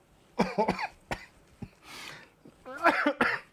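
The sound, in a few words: cough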